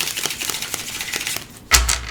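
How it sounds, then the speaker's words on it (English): Soft tarot cards are shuffled by hand in a quick run of light, papery riffles and taps, ending in a sharper card slap near the close, with no talking. "they shuffle so beautifully"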